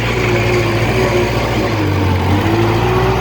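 A Kubota L5018 tractor ploughing a rice paddy runs with a steady, low diesel drone, close and continuous throughout with no voices.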